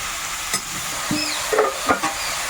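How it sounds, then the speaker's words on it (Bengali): Okra frying in oil in a wok while being lightly stirred, with a steady soft sizzle and a few short scraping clinks from the utensil. "ভিন্ডিটা উঠিয়ে নেব বেশিক্ষণ ভাজবো না হালকা একটু নাড়াচাড়া করে তুলে নিলাম"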